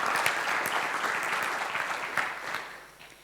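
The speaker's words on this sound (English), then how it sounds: "So a round of applause for Shiran Ishai." A live audience at the Drawing of the Year 2016 event gives a round of applause for an honoree, a dense, steady patter of many hands that holds for a few seconds, then thins and fades toward the end.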